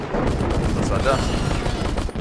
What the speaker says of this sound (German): Ah. Plasma Grenades.